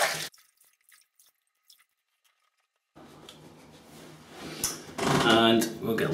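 Running water splashes from a tap during a rinse between wet-shaving passes with a Merkur 37C razor, a steady hiss that starts after a quiet pause and grows louder toward the end.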